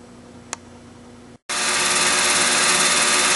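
A Tormach PCNC 1100 Duality lathe cuts metal, a faint steady hum giving way after a short gap to a loud, constant broadband hiss of cutting, close up and without talk.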